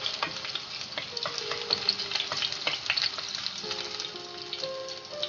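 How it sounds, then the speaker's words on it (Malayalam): Crushed garlic frying in hot oil crackles and sizzles steadily up close, dense with rapid popping ticks and no talking. "അപ്പോൾ ചതച്ച് വെച്ചേക്കുന്ന വെളുത്തുള്ളി ഇട്ടു"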